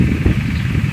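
A small engine mounted on the back of a bicycle runs close by with a steady, loud, low mechanical drone throughout the brief moment.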